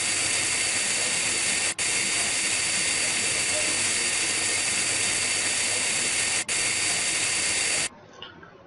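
A high-speed dental drill burr cuts a class 1 cavity in a tooth, a loud steady high-pitched whine with two brief cut-outs before stopping.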